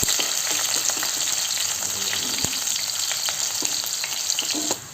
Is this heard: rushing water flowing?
no